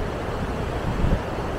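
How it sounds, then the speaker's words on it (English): Water runoff rushing below Big Meadows Reservoir near South Fork, Colorado, a steady broadband roar with a slight swell near the end, alone without voices. "there's why the biggest part of the noise is this water runoff down here"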